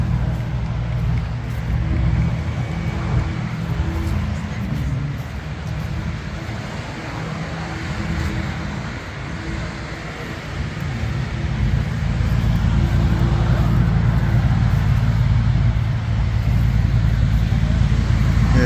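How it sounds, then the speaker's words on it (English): A car doing a tire burnout at an outdoor barbecue, beer and hot rod burnout event, a loud sustained engine roar and tire noise holding steadily for many seconds and swelling louder toward the end. "Yeah, he shredded those tires."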